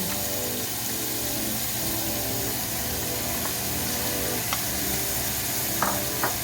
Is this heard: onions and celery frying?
yes